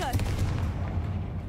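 Confringo fire spell blasting in an old mine in Hogwarts Legacy, a dense booming explosive burst with rumbling low end that stays loud through the short clip, sitting close and heavy.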